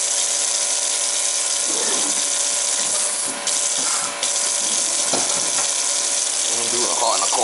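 Hot and cold faucets running full to drain the plumbing while a large summer home is winterized, a steady broadband rush of water with brief dips and some clunks and handling noises, no talk.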